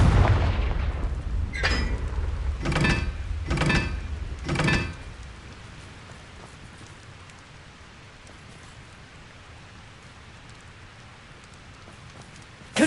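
Confringo fire spells in Hogwarts Legacy burst in four sharp explosive blasts, close and loud, spaced about a second apart over a rushing background. Then they give way to a long, quieter hiss before a brief hit at the very end.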